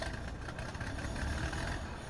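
An old tractor engine in Farming Simulator 22 chugs at idle, a faint, rough, low, steady drone with no speech over it.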